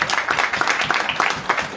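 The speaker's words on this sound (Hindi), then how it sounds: "प्रभु के नाम को ऊंचा के ताली बजा के धन्यवाद।" A church congregation at Bethel Prayer House in Ludhiana claps in praise, a dense, steady patter of many hands close by, with no pause across the short stretch.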